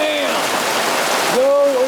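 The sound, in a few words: rain falling on a boat awning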